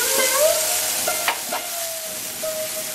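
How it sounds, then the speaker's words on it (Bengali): Tomato and onion fry in a pan with a steady sizzle while a utensil scrapes and stirs through them, close and continuous, with no talk. "টমেটো আর পেঁয়াজটা যতক্ষণ না সফট হচ্ছে ততক্ষণ ভালো করে ভেজে নেব।"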